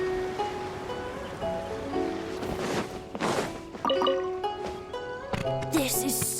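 Calm sea waves wash softly in the Genshin Impact game world, a steady low surge with gentle splashes, overlaid by sustained musical tones and a few bright chimes near the end.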